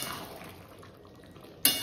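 A cooking pot of rice with bitter gourd boiled in it is lifted off a home kitchen stove: a low steady hum, then one sharp metallic clank near the end.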